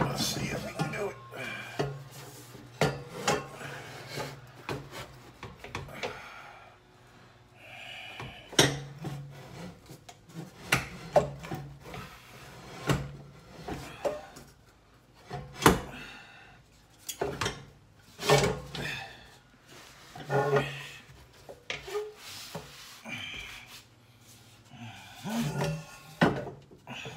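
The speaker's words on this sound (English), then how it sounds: "now we should be able to get this muffler out over the axle pipe" A muffler is worked out over the axle pipe on a C7 Corvette, with irregular scraping, metallic clunks and rubbing knocks, close and uneven, while a person talks throughout.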